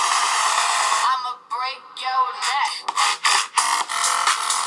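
Music played through the small, low-power bottom-firing speakers of a cheap $70 Coda laptop; thin, midrange-heavy sound with little bass, steady and fairly loud with choppy breaks, a voice-like melody in the mix.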